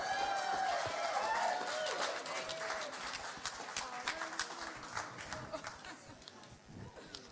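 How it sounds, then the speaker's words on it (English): Audience applause at a live club show: steady, loud clapping from the crowd that gradually thins into scattered claps, mixed with murmuring and shuffling. "Big round of applause."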